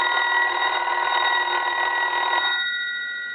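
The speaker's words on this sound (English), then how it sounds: "I'm going to go ahead and ring the phone now." The original bells of a rotary desk telephone ring loudly in one continuous metallic trill, then cut off and fade out near the end.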